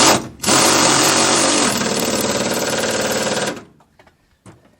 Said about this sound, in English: Alright, running this bolt in.